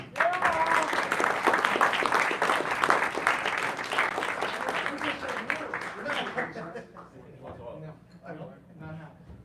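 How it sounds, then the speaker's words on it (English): An audience at a live performing arts concert applauds warmly for several seconds, a dense wash of clapping that fades out toward the end, with voices talking under it. "let's give a round of applause for Sam Martinelli"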